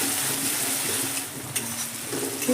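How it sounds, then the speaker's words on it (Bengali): Onion and garlic fry in oil in a home kitchen, making a steady, close sizzle with a brief scrape of stirring partway through and no talking. "খুব ভালো করে কিন্তু পেঁয়াজটা রসুনটা আমি ভেজে নেবো তেলের মধ্যে।"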